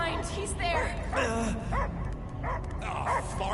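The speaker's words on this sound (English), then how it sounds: "I hear only barking." A dog barks and yips in a film scene, a few short bursts mixed with whimpering, close by, with people talking over and between the barks.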